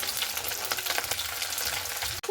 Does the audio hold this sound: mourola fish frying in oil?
yes